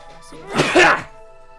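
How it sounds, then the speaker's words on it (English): A single sharp, explosive sneeze bursts out loud and close, lasting under a second, with quiet before and after. "I'm gonna sneeze really hard."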